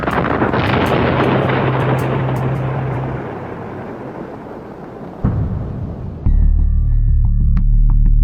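A large explosion is set off on a scale model of part of the lunar surface, a sustained loud roaring blast with a heavy low rumble that fades slightly, then a sharp second surge and a deep, continuing boom.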